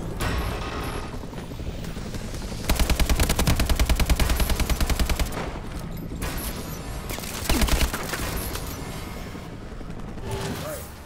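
Call of Duty turret machine gun fire comes in two loud, rapid, sustained bursts, a long one and then a short one, over a busy background of game noise.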